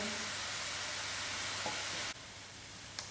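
Onions fry in a pan for a Mauritian cari bari, giving a steady, close hiss of sizzling that dips slightly partway through and carries on at a lower level, with no talking.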